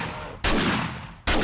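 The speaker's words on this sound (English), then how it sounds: "this brings us to the automatic shotgun, and we're going to start in 3" Automatic shotgun in 7 Days to Die: two loud, heavy blasts a little under a second apart, each followed by a short fading tail.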